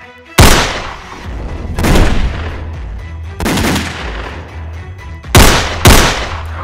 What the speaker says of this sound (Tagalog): putok ni Cruz ng baril dahil sa pagdaan sa kanilang tuktok ng mga lipad na aswang